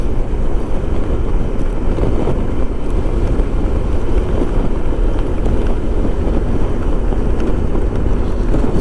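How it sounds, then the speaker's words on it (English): Strong wind buffets the rider on a 1994 Honda ST1100 Pan European motorcycle, a loud, constant roar of rushing air and rumble with no break. "wind is strong."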